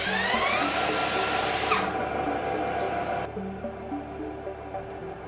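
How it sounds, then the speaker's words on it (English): A cordless drill spins the alternator of a 10kW 220V power generator, a loud, steady high-pitched whine and mechanical hum that drops in pitch partway through, continuous over the whole stretch with no talking. "with this cordless drill, we start the alternator moving"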